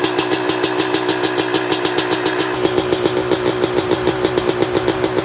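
A Honda Grom 110 motorcycle with its stock exhaust runs at idle, a close, steady putter of rapid regular exhaust pulses that turns slightly heavier partway through.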